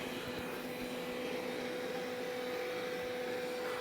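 A Roborock S5 robot vacuum runs on carpet, a steady, close, whirring motor drone with a constant tonal hum and no pauses.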